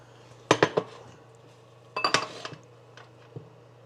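A spoon stirs thick polenta in a pot, giving two short clusters of scraping clinks against the metal and a few lighter taps, close up over a low steady hum.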